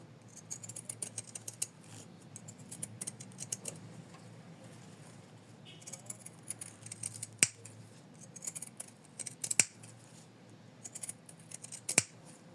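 Scissors snip through several stacked layers of an in-the-hoop embroidered ornament. Crisp, close cuts come at irregular intervals over a quiet background, with a few sharper snaps standing out.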